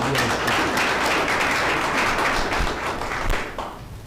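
A university audience claps continuously at a graduation livestream, a dense wash of many hands that stays loud before tapering off near the end.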